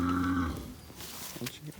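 A beef cow on a mountain-block muster gives a single close, fairly loud low moo lasting about half a second, then fades into quieter background with faint voices.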